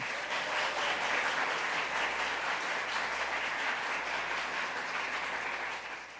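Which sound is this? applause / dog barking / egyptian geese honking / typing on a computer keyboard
applause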